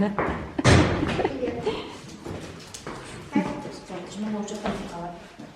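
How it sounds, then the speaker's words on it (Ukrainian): An apartment door opens and thuds shut with a solid knock near the start, followed by lighter handling bumps while people talk throughout. "Пішла, відкрою Маші двері"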